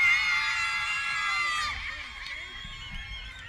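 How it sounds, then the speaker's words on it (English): Young women in a university crowd cheer and scream at a campus pageant, bright shrill voices rising together and then fading, with speech mixed in. "I can see the young ladies are cheering you so"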